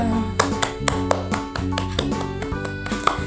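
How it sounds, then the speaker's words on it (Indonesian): Classroom applause for the first student group comes as sharp, fairly regular hand claps over a steady, sustained musical tone. "kasih tepuk tangan dulu untuk kelompok pertama."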